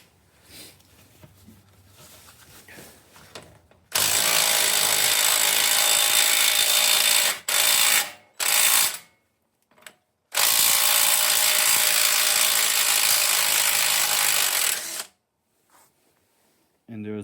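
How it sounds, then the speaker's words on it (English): An impact wrench breaks loose a CV axle nut on a Subaru Forester during a Cardone axle install, two long loud bursts of hammering with short blips between them, after quiet talk at the start. "have your impact on the nut side, and just bust it out"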